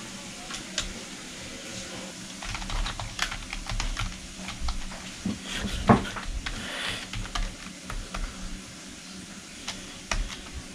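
Someone types on a Logitech K360r wireless keyboard, producing quick, irregular bursts of light plastic key clicks close by, with a slightly louder tap near the middle and no talking.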